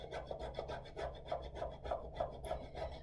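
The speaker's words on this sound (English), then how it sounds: "we're going to have to grate about 2 tablespoons worth of Parmesan cheese" A block of fresh Parmesan cheese scraped against a grater in quiet, regular rasping strokes, close and soft with no talking.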